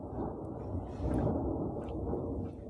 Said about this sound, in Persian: نه اینجا ما رعد و برق داریم، نمیدونم میشنوی یا نه